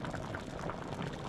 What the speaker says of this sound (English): My pots are bubbling and my salmon is baking.